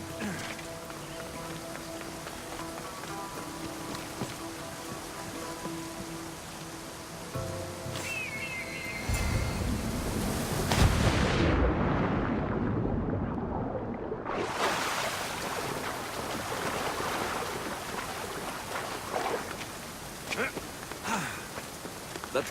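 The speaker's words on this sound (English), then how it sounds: "This is the waterfall." Waterfall in the Assassin's Creed Odyssey video game, a steady rushing water roar that swells louder midway, with game sounds and possible voices layered throughout.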